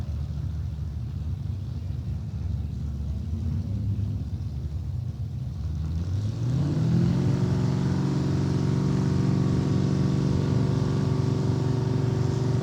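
Drag racing cars idle at the starting line, then the engine note climbs sharply about halfway through into a loud, sustained roar with a rising, droning pitch.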